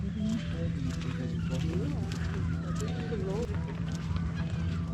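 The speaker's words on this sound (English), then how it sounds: "Check out all these seagulls now." Seagulls call repeatedly with honking, squawking cries amid a constant low ferry engine drone, with people talking nearby, on a ferry trip to the islands of the Algarve, Portugal.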